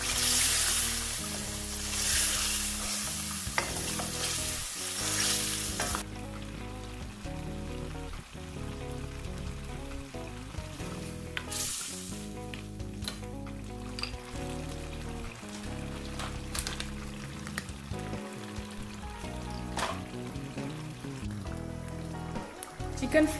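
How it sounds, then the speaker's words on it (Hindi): Chicken pieces, about a kilogram, frying in oil in a handi for makhni chicken, giving a steady, dense sizzle throughout with occasional louder bursts and scraping stirs, no talking over it. "और चिकन को भी मैंने कर लेना अच्छे से फ्राई।"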